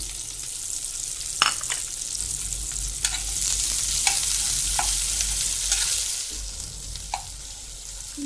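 Chopped onions, ginger and green chillies fry in a pan with a steady, close sizzle. A spoon stirs them with occasional scrapes and taps, and no one speaks.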